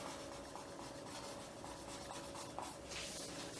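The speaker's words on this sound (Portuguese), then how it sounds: "eu vou usar a borracha aqui só para apagar aqui essa parte" An eraser rubs out part of a pencil drawing in a light-and-shadow lesson, giving soft, steady scrubbing strokes close to the microphone that stay fairly quiet throughout.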